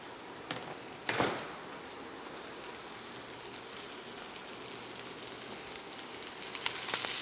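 Pork tenderloin searing in a hot pan with fat, giving a steady close sizzle and spatter, a louder crackling burst early on and rising intensity toward the end.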